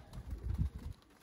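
Racing pigeons coo in a loft in a few soft, low, throaty pulses that swell and fade, close by with no talk over them.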